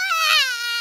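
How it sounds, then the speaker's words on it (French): A cartoon baby from a Peppa Pig children's episode lets out a loud, high-pitched wailing cry, one continuous sob lasting under a second, close and alone without talk. "Les vrais bébés font beaucoup de bruit."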